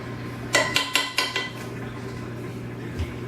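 A utensil scrapes and knocks against a bowl, getting out a quick-hardening sweet mixture before powdered sugar is sprinkled on; five or six sharp clatters in a row, then a lone faint tap over a low steady hum.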